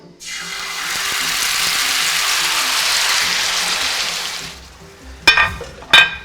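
Chicken tenderloins hitting a hot skillet over medium heat, a loud, close, steady sizzle that lasts about four seconds and then fades, followed by two short bright clinks.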